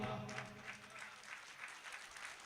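Faint, distant applause rises from the audience at an Urdu poetry recital in an auditorium in Malegaon, a soft, even patter of clapping that stays low and continuous throughout.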